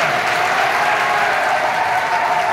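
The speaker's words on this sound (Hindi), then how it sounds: "प्लीज एक बार मैं सर को जोरदार तालियों के साथ मैं इनवाइट करता हूं स्टेज में।" Loud, dense applause from a school audience welcoming a guest science teacher to the stage at a health awareness program, a steady unbroken roar of clapping close by.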